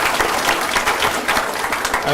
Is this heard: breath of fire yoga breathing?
no